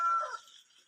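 Chickens in a Philippine countryside yard give a short, fairly close burst of clucking, bright and busy at first and then trailing off quickly within a second.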